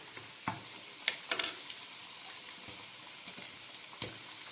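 Tomatoes go into a hot karahi of Peshawari charsi chicken, a faint steady sizzle with a few sharp clinks and ticks of a utensil against the pan.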